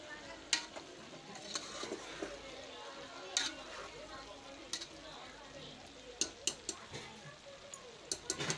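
Boti curry being stirred with ginger garlic paste in a pan: a faint sizzle with scattered light scraping and clinks of a spoon against metal, irregular and quiet.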